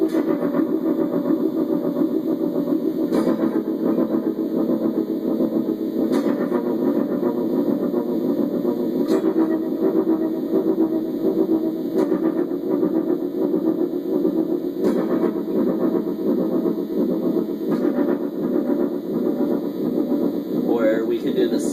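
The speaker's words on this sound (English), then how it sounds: "that sweet distortion with a tremolo, with a delay, and the reverb, and with this tremolo set really fast" An electric guitar plays with distortion, a very fast tremolo, delay and reverb, a dense shimmering buzz pulsing rapidly with a regular beat and echoing tails, steady and moderately loud throughout.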